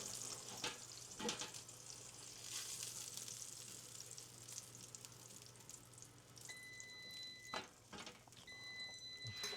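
French fries frying in beef tallow make a soft, steady sizzle and crackle, close but quiet, broken by a few clinks and scrapes of utensils.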